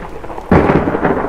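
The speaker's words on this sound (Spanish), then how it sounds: "La tormenta caía con furia." A sharp thunderclap bursts in over steady rain, then heavy rain and rumbling thunder continue loudly.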